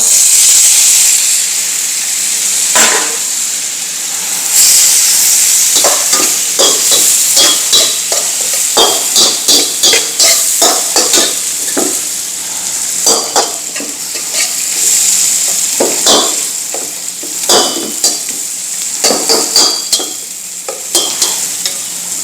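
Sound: tomatoes frying in a pan for Chettinad meat curry

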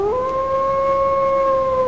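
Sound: werewolf howling sound effect

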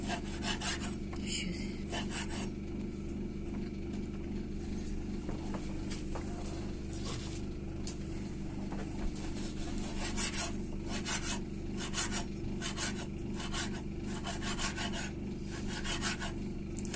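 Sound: knife slicing pork fat (salo)

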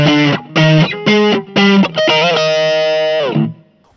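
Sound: electric guitar through BOSS GT-1 multi-effects with distortion

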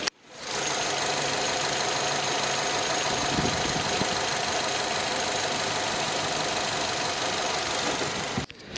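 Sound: Samsung SM5 Impression 2008 car engine running

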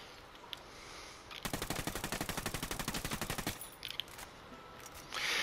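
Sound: weapon fire in the video game Ghost Recon Wildlands

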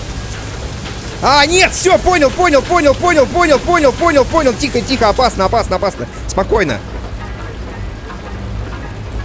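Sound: rain during a storm in the video game FAR: Lone Sails

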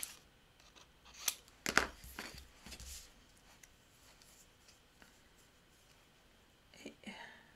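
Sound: paper being cut at an angle

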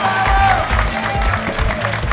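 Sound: audience applause

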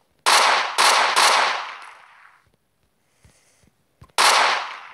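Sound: AK-47 gunfire from Minecraft PE guns mod, video game

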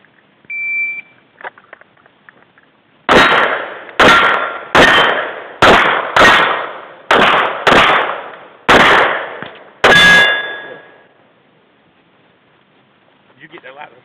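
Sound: pistol shots hitting a ringing steel target

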